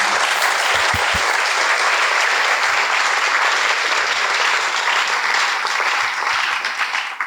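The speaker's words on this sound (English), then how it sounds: "can I ask you all to give them a big round of applause?" Audience at a building workshop event breaks into sustained, loud applause that fills the whole stretch, steady clapping from a crowd without any speech.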